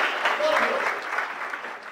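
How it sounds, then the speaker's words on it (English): Audience applause for a volunteer at a mentalist stage show, a steady wash of many hands clapping at moderate loudness, slightly fading toward the end. "Give a round of applause for him."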